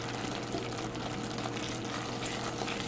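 Risotto simmers in a pan as it is stirred, a dense bubbling sizzle and soft wet stirring heard steadily up close with no talk.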